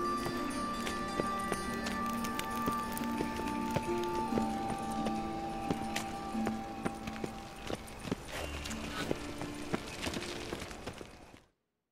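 Horse hooves in a game scene, a steady run of clip-clopping beats under soft background music and a murmuring voice, continuous for most of the stretch before abruptly cutting to silence.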